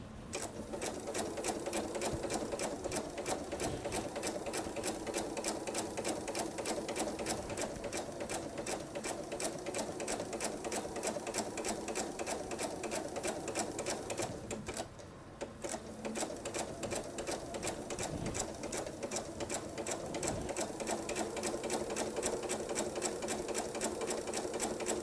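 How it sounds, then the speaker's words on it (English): A sewing machine stitches a patriotic nine-patch table runner, running steadily and continuously at close range with a fast rhythmic needle clatter, a brief pause near the middle, and no talking. "We are going to stitch until we get 1/4 inch away"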